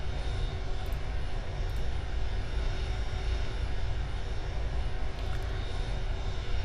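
A steady, loud aircraft engine drone fills a flight in the video game Aeronautica, constant and unbroken with no speech.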